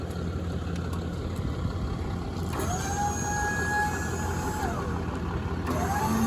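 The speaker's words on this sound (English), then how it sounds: "See how smooth that crane works?" A truck-mounted crane on a service truck runs smoothly, a thin rising and falling hydraulic whine over the steady hum of the idling truck engine.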